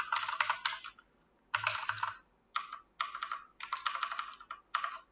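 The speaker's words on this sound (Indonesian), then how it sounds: "kita ketik di sini" Typing on a computer keyboard during a WordPress staging setup, crisp close key clicks in several quick bursts separated by short pauses, alone without talk.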